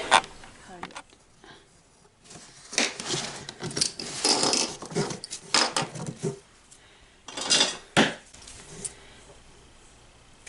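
Painted strip of dollhouse trim being cut on a work surface, a series of short crisp cutting and handling clicks and scrapes in irregular bursts, close and moderately loud.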